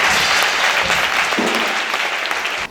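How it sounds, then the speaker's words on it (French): Church gathering bursting into dense applause, a loud sustained clatter of many hands clapping, briefly swelling then easing toward the end. "Acclame Jésus."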